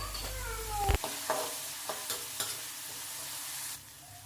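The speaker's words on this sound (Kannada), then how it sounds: "ತರಕಾರಿ ಎಲ್ಲ ಚೆನ್ನಾಗಿ ಫ್ರೈ ಮಾಡ್ಕೊಳ್ಳಿ." Mixed vegetables and peas fry in a pan, a spoon scraping and clattering through them in several separate strokes over a soft, continuous sizzle.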